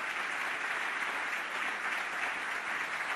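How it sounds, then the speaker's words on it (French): Steady, dense applause from an award ceremony audience fills the whole moment, a continuous even roar of many hands with no voices over it. "Et vous pouvez les applaudir encore une fois"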